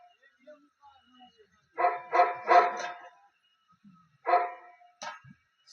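A tethered dog barks at night: a quick cluster of three or four sharp barks, a pause, then two more single barks, close and fairly loud against a quiet background.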